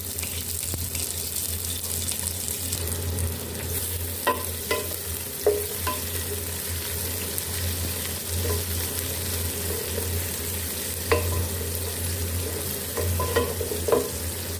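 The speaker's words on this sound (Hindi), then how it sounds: "अब इसमें हम प्याज डाल लेंगे और इसको हम प्याज को फ्राई कर लेंगे।" Steady sizzling of onions frying in a pan for a tinda and potato curry, with occasional stirring scrapes and clinks over a constant low hum, no talking.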